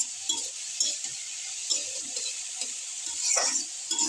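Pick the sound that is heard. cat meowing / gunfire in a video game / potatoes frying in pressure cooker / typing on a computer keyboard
potatoes frying in pressure cooker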